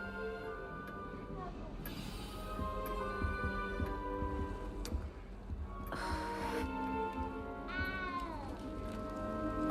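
A cat meows repeatedly in the video game Hogwarts Legacy, several drawn-out calls standing out over a quiet background bed with speech around them.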